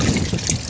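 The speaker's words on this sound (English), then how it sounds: "You rinse your sponge out" A sponge swished and rinsed in a bucket of water while cleaning stonework on a heritage building, giving a close, continuous trickle and slosh of liquid.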